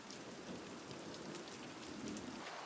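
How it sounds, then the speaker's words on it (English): Steady rain falls on a garden after a long drought, a soft, even hiss of drops continuing throughout without voices. "And yes, it finally rained."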